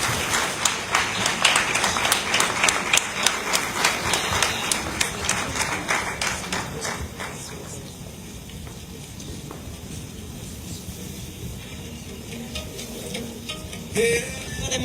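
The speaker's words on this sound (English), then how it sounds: "may we give him another round of applause" A crowd applauds, dense clapping that is loud at first and then gradually thins and fades to a lighter patter.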